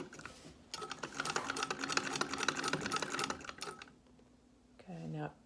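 Treadle sewing machine stitching fabric, a rapid close rattling run of needle clatter lasting a few seconds, then stopping as a voice speaks briefly.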